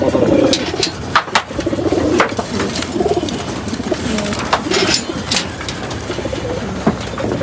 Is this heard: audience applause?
no